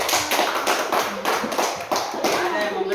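Classroom applause for a student group in a school lesson: a steady stretch of rapid hand clapping from many children, fairly close and continuous, with some children's voices mixed in.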